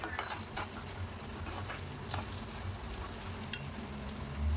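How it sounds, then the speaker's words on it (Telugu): Green chillies frying in oil in a pan for a mutton curry, with a steady sizzle broken by occasional stirring scrapes and clinks, heard up close with no talk. "పచ్చిమిర్చి కొంచెం ఫ్రై కావాలి."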